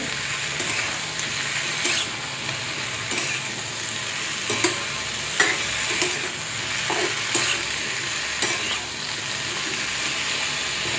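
Chopped potato with roasted green chillies sizzles steadily in a pan, broken by a series of sharp spatula scrapes and stirring knocks spread through the clip, close and fairly loud, with no talking.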